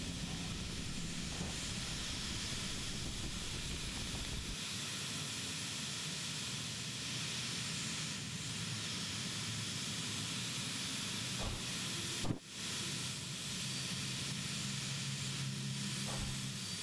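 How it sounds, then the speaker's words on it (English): Steam hisses steadily from a steam locomotive in Derail Valley, a loud continuous broadband hiss lasting throughout, with a low rumble early on and a brief click near the end. "now we have some steam coming out anyway"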